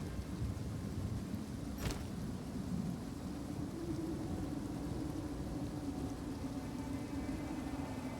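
A lightning arrow skill fired from a bow in the video game Path of Exile 2 gives one sharp crackling burst over a continuous, rain-like rumbling hiss.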